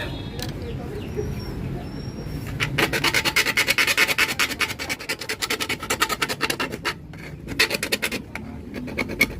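A hand file rasps back and forth on a 798 autolock door lock during installation, rapid rhythmic scraping strokes that start after a quieter opening and carry on close and steady, with faint birds in the background.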